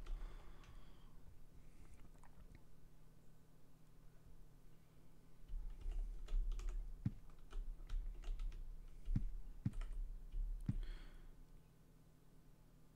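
Computer keyboard typing in a scattered run of clicks and taps, close and fairly quiet, with busier bursts in the second half over a low steady hum.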